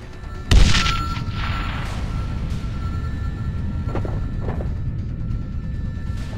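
An incoming missile explodes in Sniper Ghost Warrior 2. A single sudden, loud blast is followed by a long, heavy rumbling roar, with a few faint thuds further back.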